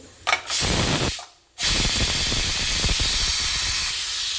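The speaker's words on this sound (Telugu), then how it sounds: "ఆవిరి అయితే ఇలా మొత్తం కంప్లీట్గా తీసుకోవాలి ఫ్రెండ్స్" Steam hisses hard from a pressure cooker holding ridge gourd dal as the pressure is let out, a loud, close rush that stops briefly and then comes back strong and steady.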